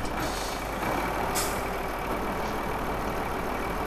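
A truck in Farming Simulator 15 idles with a steady, loud engine drone, carrying a brief hiss partway through; no beeping stands out.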